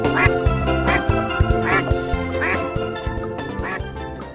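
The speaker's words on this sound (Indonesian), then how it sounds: "Wih, ini ada bebek" A white-and-red duck quacks loudly and repeatedly at close range, with nasal calls spaced roughly half a second apart and no talk over them.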